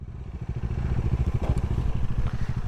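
A mini off-road motorcycle engine revs hard and close, a rapid throbbing, rattling drone that rises and holds near full throttle with clattery crackles, no voices heard.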